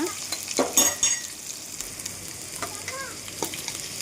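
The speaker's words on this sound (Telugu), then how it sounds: "కొంచెం కరివేపాకు వేసి ఆనియన్స్ ఫ్రై చేసేసుకోవాలన్నమాట" Onions and curry leaves fry in a pan with a soft continuous sizzle, a few louder stirring scrapes and clinks early on, then quieter crackling that keeps going.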